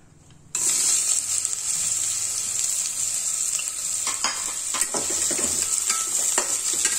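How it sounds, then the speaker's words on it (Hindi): Onion drops into hot mustard oil and sets off an abrupt, loud sizzle that holds as a bright, even hiss. Occasional stirring clicks cut through, with no talk. "देखिए तेल गर्म हो गया है और उसमें प्याज डालूंगी"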